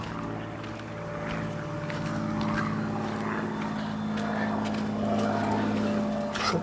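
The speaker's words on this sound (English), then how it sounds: "Excuse the aeroplane going over." Aeroplane passing overhead, a steady droning hum with a clear tone that slowly swells and lingers, moderately loud in the open air beside a Peugeot 3008 Mk1 car.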